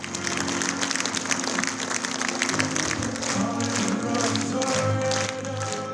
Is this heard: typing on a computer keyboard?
no